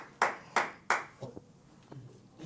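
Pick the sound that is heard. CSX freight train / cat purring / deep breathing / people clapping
people clapping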